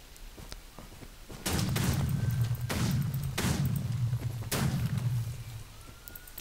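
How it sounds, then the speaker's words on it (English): Repeated gunfire in the Minecraft Quake minigame: several loud, sharp shots in an uneven rhythm over a steady background hum, with no talking. "Who's shooting at me?"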